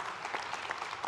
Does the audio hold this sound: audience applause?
yes